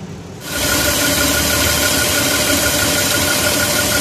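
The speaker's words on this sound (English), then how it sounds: "Now engine start." An engine suffering from blow-by fires up abruptly after a brief quiet moment, then settles into a loud, steady, rumbling idle that drones on evenly to the end, with no voices.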